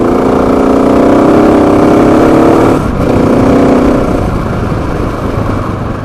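A BigDog motorcycle engine pulls at about half throttle on a hill, giving a loud, close, steady roar with a brief dip near the middle before the drone resumes and fades slightly.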